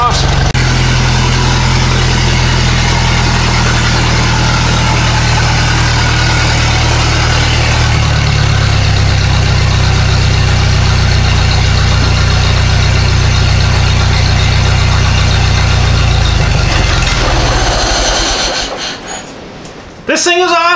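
A Ford AA Doodlebug with carburetor trouble and an unset idle runs loud and close, a steady heavy engine drone that shifts pitch partway through, then fades with handling noise at the end.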